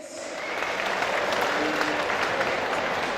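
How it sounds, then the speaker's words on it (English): Crowd applause at a boxing arena, the Brentwood Centre in Essex, for both young boxers after a professional bout, a sustained wash of clapping from a large hall with a faint announcer's voice underneath. "Ladies and gentlemen, can we have a round of applause, please, for both these young men starting us off tonight"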